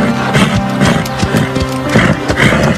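A horse galloping in an animated riding show, quick repeated hoofbeats under a loud musical backing with a brief whinny-like cry, no talking.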